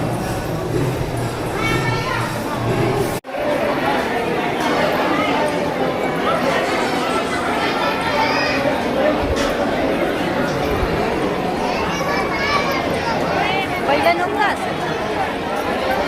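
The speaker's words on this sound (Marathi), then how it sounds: "बरीच गर्दी." A dense crowd of visitors chatters at the Tulja Bhavani temple in Tuljapur, a steady near-and-far murmur of many voices with children's voices and occasional louder speech, briefly cutting out early on.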